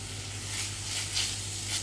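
Red onion sizzles softly in a pan for shakshuka, a quiet, continuous frying hiss with gentle swells and a low steady hum beneath.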